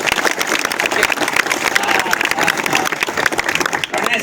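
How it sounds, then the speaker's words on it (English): A conference audience gives a big round of applause, loud continuous clapping filling the hall with scattered crowd noise mixed in. "all of you would also be joining your hands together to give a big round of applause to this conference"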